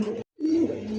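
Large pet pigeons, a white pair for sale, give a close, loud cooing call, two low droning phrases split by a brief silence, with no talking over them.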